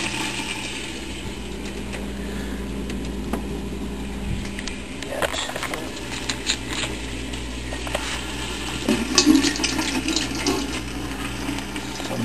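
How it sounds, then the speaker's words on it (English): Water is poured into a clambake pot for steaming, a steady running splash with scattered clinks and knocks of the pot, getting briefly louder near the end, with no talking. "So to this I'm going to add some water."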